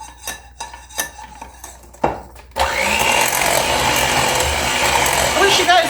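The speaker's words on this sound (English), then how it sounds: "I'm just going to scrape this brown sugar and butter off the sides and get that incorporated in there." Utensil scraping brown sugar and butter off the sides of a mixing bowl: a few separate clinks and scrapes at first, then continuous rough mixing and grinding against the bowl.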